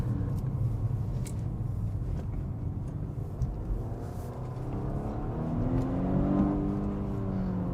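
A Volvo S60 T8 Polestar with supercharger, turbocharger and hybrid batteries accelerates, its engine note building into a rising whine and roar toward the end, heard from inside the car, steady and moderately loud with no talk.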